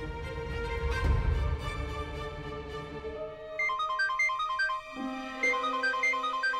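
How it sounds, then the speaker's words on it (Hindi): A mobile phone ringtone plays a repeating electronic melody of bright tones, clear and fairly loud, following a stretch of busy background noise, in a TV drama. "ये तो भाई की रिंगटोन है।"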